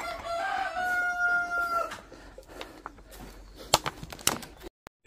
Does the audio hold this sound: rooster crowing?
yes